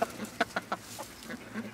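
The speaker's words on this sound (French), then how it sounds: "C'est un coq Sabelput porcelaine dorée pour ma petite poule." A Sabelput porcelaine dorée bantam rooster clucks close by in a short series of sharp, separate calls with short gaps between them, heard alone.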